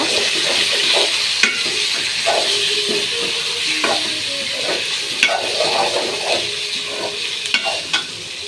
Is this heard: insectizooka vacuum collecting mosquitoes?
no